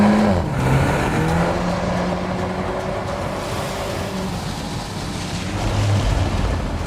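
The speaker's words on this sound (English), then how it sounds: "The drift mode provides a lot of fun and allows the car to drift through torque vectoring." A 2020 Volkswagen Golf R drifting in drift mode with torque vectoring: a loud, continuous engine roar with shifting pitch and a rushing, whooshing tire and road noise, steady and close throughout.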